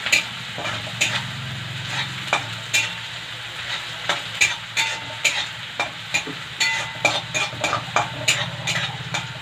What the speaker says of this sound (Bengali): এবার আদা বাটাটা দিয়ে দেবো। হালকা নাড়াচাড়া করে নিয়ে